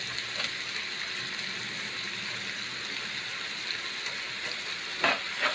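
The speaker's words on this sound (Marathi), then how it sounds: "प्रत्येक भाजी थोडं टाकली की थोडं थोडं परतून घ्या" Onion and green beans stir-fry for veg fried rice, a bright, steady sizzle in hot oil with a few spatula scrapes and clinks near the end, close and unvoiced.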